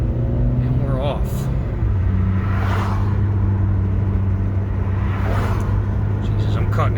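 Car setting off along California Road 49 toward Yosemite, a steady engine drone and road rumble with tonal hum as it gets under way, a person talking over the noise.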